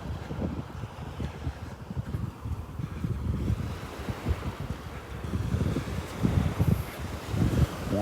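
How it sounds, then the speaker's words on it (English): A cool north wind gusts steadily across the open beach at Delnor-Wiggins, roaring and buffeting the microphone with a low rumble that swells toward the end, with no voices. "The wind is coming out of the north again, so we got a cool breeze coming out of the north."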